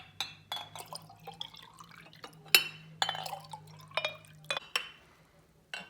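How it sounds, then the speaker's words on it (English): Water is poured into an empty glass jar for a rice water hair spray, giving bright glassy clinks, splashes and drips in irregular bursts against a low steady hum, with no talking. "I will just add some water in this empty jar"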